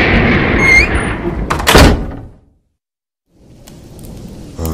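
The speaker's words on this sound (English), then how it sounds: "there appears to be a storm coming in tonight" A thunderstorm in a 2021 short horror film: heavy rain hiss builds into a loud thunder crash that rumbles and fades to near silence, then softer rain returns and a sharp crack closes the clip.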